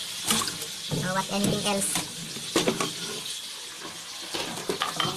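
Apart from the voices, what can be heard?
water running from tap into laundry basin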